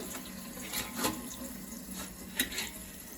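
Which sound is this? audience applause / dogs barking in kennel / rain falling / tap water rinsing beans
tap water rinsing beans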